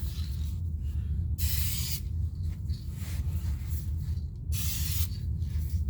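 Duplicolor Cardinal Red base coat spray can misting onto a Ford Ranger rocker panel repair, two distinct close hissing bursts about a second long, separated by quieter rustling and hiss over a low hum.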